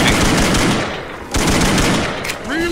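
Rapid pistol shots from dual-wielded handguns in the video game Left 4 Dead 2, loud and close, fired in quick bursts with a short pause around the middle, while a voice briefly speaks near the end.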